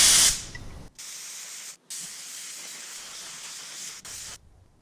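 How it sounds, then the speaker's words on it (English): A spray gun lays clear coat onto a car headlight in a steady hissing spray, several passes of a few seconds each broken by short pauses, close and fairly loud. "we are gonna go ahead and spray this. Now I'm gonna use my gun"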